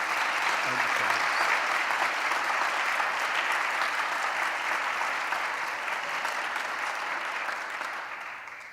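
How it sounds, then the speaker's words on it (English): An audience at an awards ceremony recognizing educators applauds steadily and densely for several seconds, sustained and evenly loud, then slowly tapering near the end with no speech over it. "Please give another round of applause for these two wonderful educators."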